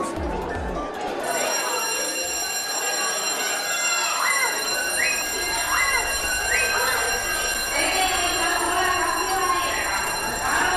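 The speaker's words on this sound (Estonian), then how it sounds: "See on tulekahju häire, mitte koolikell." A school fire alarm rings continuously in a steady, high electronic tone that fills the space. Rhythmic chirps sit over a constant buzz, and voices are faintly heard underneath.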